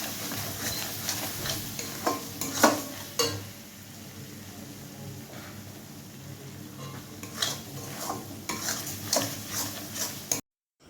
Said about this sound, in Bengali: আবার আমি মশলাটাকে কষিয়ে নেব।